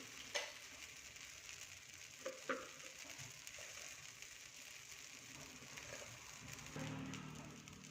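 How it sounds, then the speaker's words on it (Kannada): Dosa batter fries in oil on a hot pan, a steady, quiet sizzle with a few soft scraping clicks and a brief louder hiss near the end. "ಇನ್ನೊಂದು ದೋಸೆ ಹಾಕ್ತೀನಿ. ಈ ಮೇಲ್ಗಡೆ ಎಣ್ಣೆ ಹಾಕ್ತೀನಿ."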